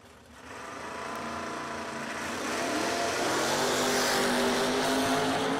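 Drag racing cars at a racetrack launching and accelerating away: engine roar builds and then holds as a loud, steady drone, with no voices over it.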